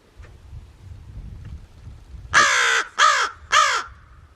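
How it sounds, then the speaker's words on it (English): Three loud, harsh raven caws in quick succession, each about half a second long, break in after a stretch of quiet rustling background in a winter setting with a bird bath. "I can hear Raven in the distance."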